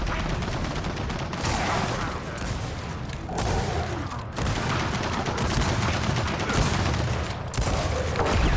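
Sustained turret gunfire in the video game Gears of War 4, a dense, loud barrage of rapid shots and booms running without pause over several seconds, with voices partly mixed in.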